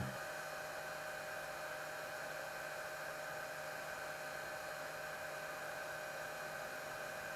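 Steady, loud whir of the cooling fan on a 50-amp LiFePO4 battery charger running at full output, a continuous even drone with a hum underneath and no talking.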